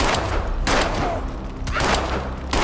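Pistol shots in the online multiplayer survival game DayZ, several loud, sharp reports fired in a quick irregular string over a dense background of game noise.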